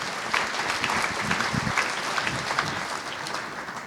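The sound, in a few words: audience applause at gala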